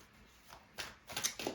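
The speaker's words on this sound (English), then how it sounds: "This deck wants to be shuffled this way and only that way." A tarot card deck being shuffled, heard faintly: a soft, quiet stretch followed by several quick riffling bursts close to the listener.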